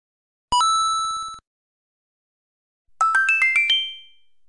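Text message notification tune from the video game PUBG: a single sustained chime, a pause of silence, then a quick rising run of bright bell-like notes, loud and close, with no talking.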